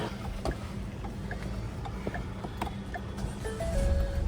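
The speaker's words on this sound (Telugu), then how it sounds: "స్టార్ట్ అయింది బండి సింగిల్ స్లిప్ బండి ఇంజన్ మాత్రం చాలా స్మూత్గా ఉందండి" A steady low engine rumble of a 2017 Ford EcoSport Titanium diesel idles continuously, fairly close, with a few light clicks and a brief whistling tone near the end.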